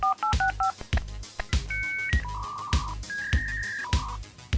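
Telephone dialing tones on a phone line used to send short messages to Cuba: a quick run of short dual-pitch beeps, then several longer sustained tones over a recurring low, rhythmic pulse. No voices.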